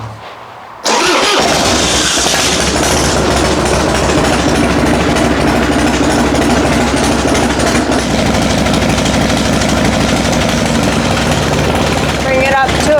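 A 1994 Harley-Davidson Dyna motorcycle engine starts after a moment of quiet, then runs loud and close with a steady, throbbing low idle that continues throughout.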